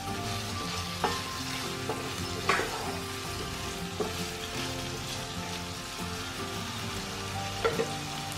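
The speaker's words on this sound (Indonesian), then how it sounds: "Kita aduk-aduk sebentar seperti ini." Medan-style lontong vegetable curry being stirred in a pan, with a steady simmering sizzle broken by several scraping strokes of the utensil against the pan.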